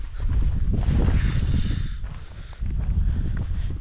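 Cold wind buffets the microphone on a bikepacking trek up Mt. Pinatubo, in heavy, low rumbling gusts that ease briefly midway, then pick up again.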